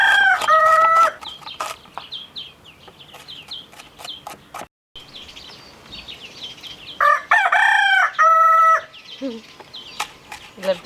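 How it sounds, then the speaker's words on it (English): A rooster crows twice, loud and fairly close, once at the start and again near the end, with clucking and other hen calls between the crows, outdoors at a yoga and meditation retreat. "I love the chicken in the background."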